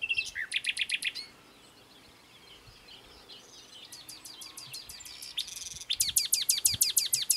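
Common nightingales and other birds singing in a garden in southern Portugal, with bursts of rapid, repeated high chirping phrases at close range, separated by a quieter stretch of faint background calls.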